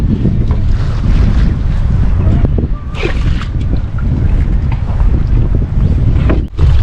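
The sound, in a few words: wind in stormy weather at sea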